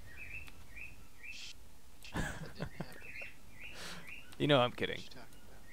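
Short chirping bird calls from a Planetside 2 game session repeat through the background, faint and steady, while someone speaks briefly over them.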